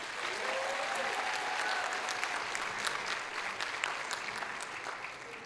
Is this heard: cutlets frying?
no